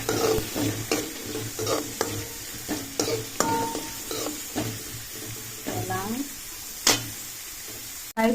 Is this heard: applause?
no